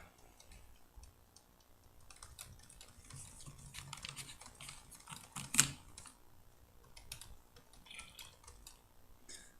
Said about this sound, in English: Hopefully you don't hear the button mashing too much.